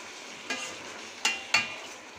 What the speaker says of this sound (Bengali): নেড়ে চেড়ে মশলাটা মিশিয়ে দিচ্ছি